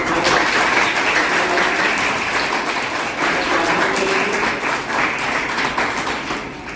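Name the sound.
loud audience applause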